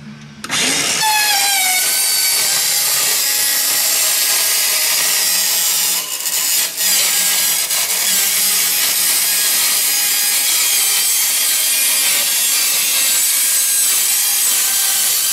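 A power tool cuts through the sheet-metal wall of a metal building for an exhaust fan opening, a loud continuous high-pitched grinding screech that starts abruptly and holds steady with a brief dip partway through.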